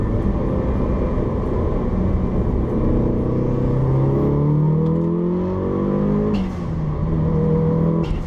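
A Mitsubishi Evo 9 with about 441 hp accelerates hard through a pull, engine note climbing steadily in pitch, dipping briefly at a shift and rising again, loud and close from inside the car with no talking.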